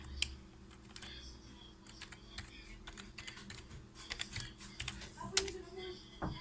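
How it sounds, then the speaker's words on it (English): A password tapped out on a laptop keyboard, quiet irregular key clicks in short bursts over a faint room hum, close and unaccompanied by speech. "You can see I'm putting in the password."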